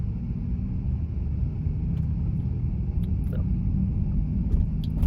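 Inside an Audi Q7 55 TFSI e plug-in hybrid SUV creeping through heavy traffic, a steady deep rumble of road and cabin noise continues without a break, with faint small clicks and taps on top and no voices.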